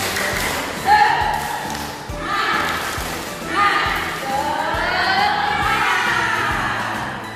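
Children at a village Mother's Day event perform the rhythmic 'tepuk semangat' clapping chant, with voices rising in bursts over a steady background of talk and crowd noise.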